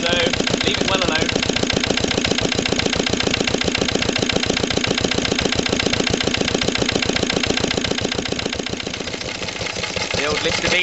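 A 1945 Lister D and a 1960s Lister LD1, old stationary diesel engines, run together with a loud, rapid, steady knocking beat that continues throughout.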